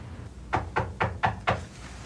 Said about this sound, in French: on cogne à la porte